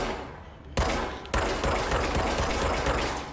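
Rapid automatic gunfire from the video game Control erupts in two loud, sustained bursts after a brief quieter lead-in, a dense rattling stream of shots with no speech over it.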